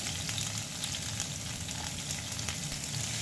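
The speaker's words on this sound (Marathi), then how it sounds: "थोडा कांदा आपल्याला परतून घ्यायचा आहे" Chopped onion with green chili sautéing in a pan for masala Maggi, a soft, even, continuous sizzle with faint crackles throughout.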